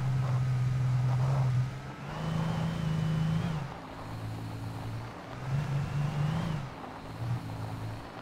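A car engine in the video game Alan Wake hums and revs in steady bursts, pitch rising and falling as it accelerates, with a mechanical, game-like drone throughout and no talking.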